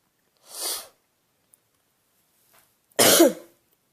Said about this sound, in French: Je renifle un peu, vous m'excuserez